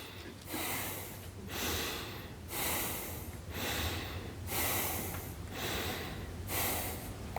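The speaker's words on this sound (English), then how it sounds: "I'm breathing a little bit harder, but I would breathe like this" A man demonstrates heavy breathing during a meditation talk, drawing a series of deep, forceful breaths in a steady rhythm, each long whooshing inhale and exhale close to the microphone, with no talking.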